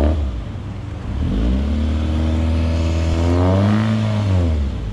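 1989 Honda Civic EF 1.6i DOHC engine revving up and down through a newly fitted exhaust after sitting unstarted for a year, two rising and falling revs heard close and loud, alone with no talk.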